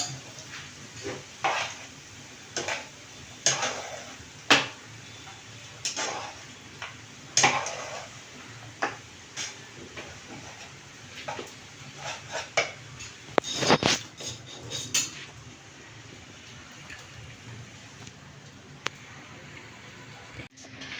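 Cooked rice being mixed into a paneer and vegetable pulao in a pan, with irregular scraping and tapping of a spoon against metal spread across the stretch, close but fairly soft, with no talking.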